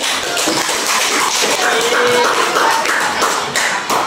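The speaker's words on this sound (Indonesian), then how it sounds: "kalau tidak ada kita beri aplaus untuk kelompok" Classroom applause for a student group after a presentation, dense overlapping clapping from many people filling the whole stretch at steady loudness.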